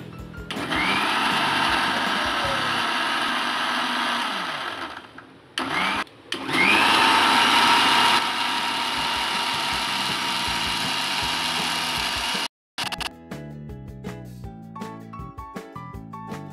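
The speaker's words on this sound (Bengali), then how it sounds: "মিশ্রণটি 2-3 মিনিটের জন্য ব্লেন্ড করে নেব।" A kitchen blender whirs loudly and steadily as it purées oats soaked in milk, cutting out briefly twice before restarting, then stopping as quiet music continues.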